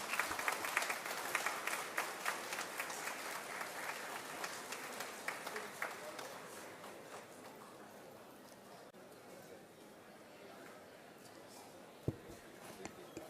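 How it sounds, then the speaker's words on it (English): Audience applause at a VIT college event, loud dense clapping at first that slowly thins and fades to scattered claps near the end. "Let's have a huge round of applause to this brilliant display of creativity and innovation"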